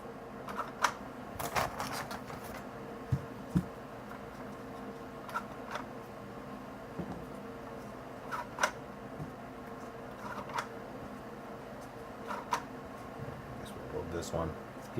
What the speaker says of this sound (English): you're mashing more darts through these spring-loaded doors